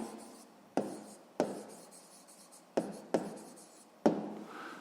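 Pen strokes on paper while working a sixth-grade maths exercise, close and quiet, in short scratchy bursts that each begin sharply and trail off, about five or six strokes in a row with no voices.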